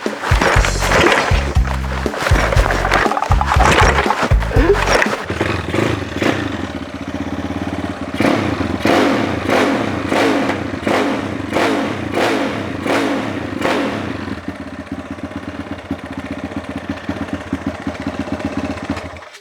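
A tuned Honda Dream Kurusapha motorcycle with a 74 mm bore, 12 stroke and upper gasket work is started with a few harsh clattering bursts. It then revs repeatedly in loud, close, rising and falling pulls.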